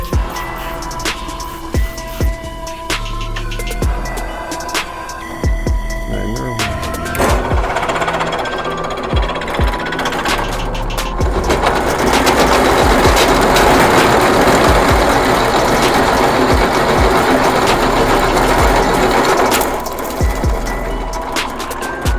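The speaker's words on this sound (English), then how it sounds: "Smaller drill bits have to go faster. Bigger drill bits go slower." A drill press with pulleys set to about 1440 rpm bores into metal during a Jeep suspension bracket job, giving a steady loud mechanical whir with rattling and grinding that swells in the middle section.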